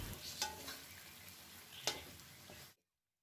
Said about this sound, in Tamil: இது ரெண்டும் இந்த கறி கூட சேர்த்து நல்லா எல்லாம் பொரியட்டும்